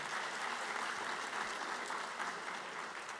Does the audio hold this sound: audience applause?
yes